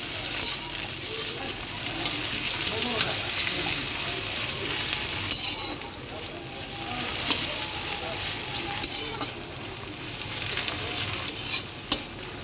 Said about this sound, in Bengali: সর্ষের তেল এর মধ্যে পেঁয়াজগুলো ভেজে নেব